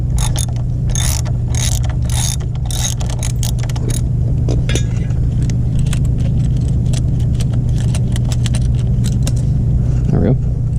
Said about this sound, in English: So now we're going to remove this bolt and this whole band that has held the relay in place.